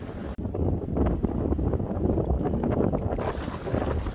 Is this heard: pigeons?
no